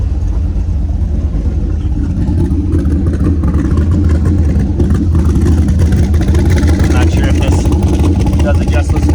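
A 6.0 LS V8 in a 1937 Nash street rod coupe rumbles through a Flowmaster exhaust with stainless steel oval tips, a loud, close, continuous idle with light revving and a voice talking over it.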